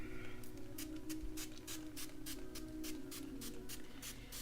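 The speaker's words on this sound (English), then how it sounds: "Spraying it with water." A spray bottle mists water onto a gouache paint set in a quick series of about a dozen short, sharp hisses. The bursts are evenly spaced over a steady low background hum.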